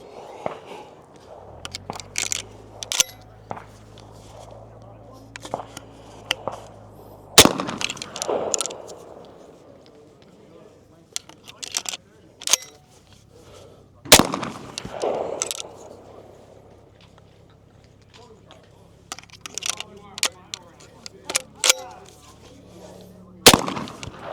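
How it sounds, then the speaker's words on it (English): A Tristar Viper G2 20 gauge shotgun fitted with a shell catcher fires three sharp shots spread over about twenty seconds, with handling clicks, rustling and mechanical clatter in between. "I will do a 3-shot demo for you to see."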